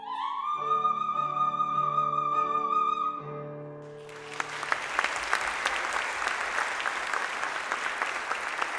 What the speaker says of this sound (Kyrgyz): эл канаттанбай калгандай узакка кол чаап жатышты